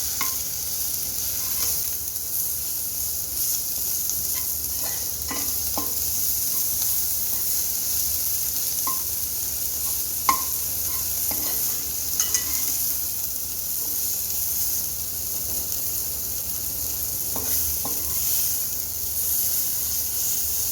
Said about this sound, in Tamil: இப்போ இது எல்லாத்தையும் சேர்த்து நல்லா ஃப்ரை பண்ணிக்கலாம்